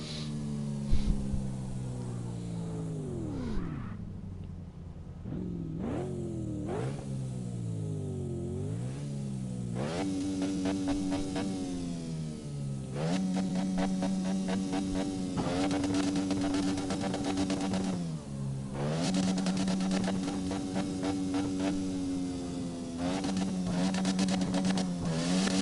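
Game engine audio from CarX Drift Racing: a mid-pitched car engine revving repeatedly, climbing and dropping through gears in long sweeps, loud and continuous for the whole stretch with no talk over it.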